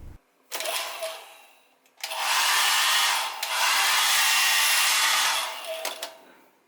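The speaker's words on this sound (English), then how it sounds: "And they got a hairdryer." A hotel-room hairdryer at a luxury resort in Antalya blows in steady broadband whooshes, starting briefly, then running loud and continuous for several seconds before cutting off.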